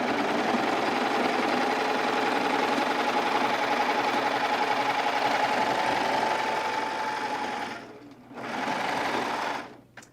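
A serger stitches a seam on little boys' shorts, a steady, close, fast mechanical whir running for about eight seconds, briefly stopping, then starting again for a short burst before cutting off.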